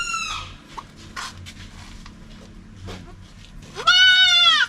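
A goat bleats loudly and close by at a van-life campsite, one wavering cry at the start and a longer strained bleat near the end, with quieter rustling and faint background between them.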